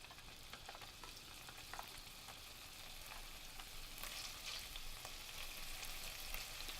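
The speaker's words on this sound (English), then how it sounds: "Now I'm going to put in the smoked lardons into the pot." Smoked lardons fry in a pot for a rabbit stew, producing a faint, steady crackling sizzle with soft intermittent pops, quiet and continuous with no voices.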